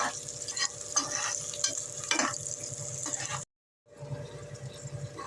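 Cloves and marathi moggu sautéing in hot oil in a pan for vegetable biryani, a steady close sizzle with scraping stirs, briefly cut to silence before the frying resumes.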